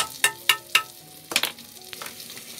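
Mushrooms drop into a hot pan for beef bourguignon: several quick, sharp sizzling splats close by, then a softer crackle as they settle.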